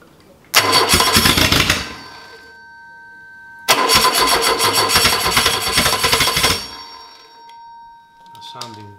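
Ford 2.0L Pinto engine in a 1969 Ford Capri cranks and fires twice, each time running loudly for a few seconds with a harsh, busy roar before cutting out, with brief talk in the gaps.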